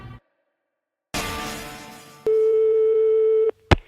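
Telephone line tones heard while dialing the police in France: a brief rush of line noise, then a steady tone for about a second, followed by a short click, all clear and close.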